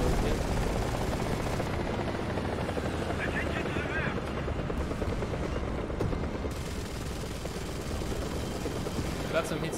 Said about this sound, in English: Too many choppers.